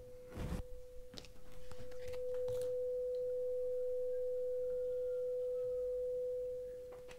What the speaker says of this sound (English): We've got a tone coming out of the speaker.